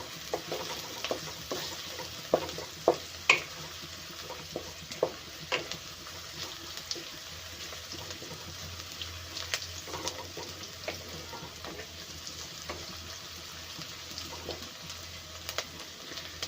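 Onion and green chili fry quietly in a pan for noodles, a soft steady sizzle with occasional stirring scrapes and clicks, close and faint.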